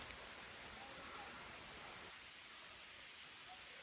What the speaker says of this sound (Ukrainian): Чути вам, який дощ пустився?